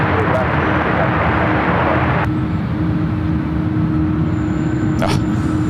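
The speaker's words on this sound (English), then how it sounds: "787-8 Dreamliner, but it looks tiny heading to the ones." A Boeing 787-8 Dreamliner airliner taxis at SFO airport, a steady broadband jet roar that holds throughout, with a brief sharper burst near the end.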